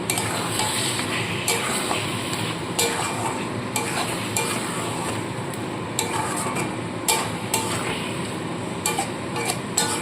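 Fried potatoes and chicken tossed into hot oil and spices for a Bengali red chicken curry, a continuous sizzle broken by repeated clacks and scrapes of a spatula against the pan, close and busy throughout with no talking.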